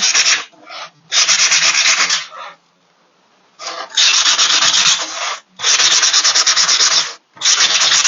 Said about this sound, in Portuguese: Aquela mesma lixinha mais grossa.